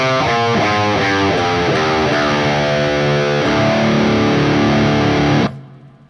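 Distorted metal electric guitar picks a one-octave Locrian mode scale, with single sustained notes stepping evenly one after another before ringing off and cutting to silence.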